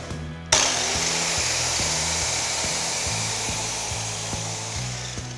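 Power saw with a laser guide cutting timber at about a 12-degree angle, starting abruptly and then whining loudly and steadily close by, with a faint repeating rhythmic pattern underneath.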